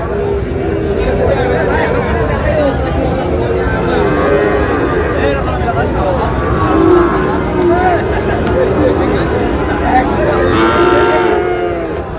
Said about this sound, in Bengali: কেমন দামের শাহিওয়াল জাতের ষাঁড় বাছুর গরুগুলো বেচাকেনা হচ্ছে